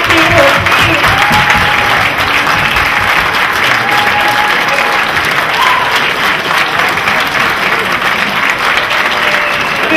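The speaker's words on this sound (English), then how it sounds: "if you can please give her a big round of applause." A large audience at a political fundraiser dinner claps and cheers continuously, a dense, loud wash of applause filling the room.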